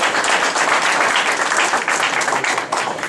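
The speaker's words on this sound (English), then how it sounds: "Let's give him a round of applause" A crowd at a Chanukah party award ceremony applauds warmly for a police captain, dense steady clapping filling the room from start to finish.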